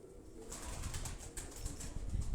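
Asil high-flying pigeons from Quetta released and taking off, with soft wing flaps and fluttering rising over a low outdoor rumble; faint, brief, no talk.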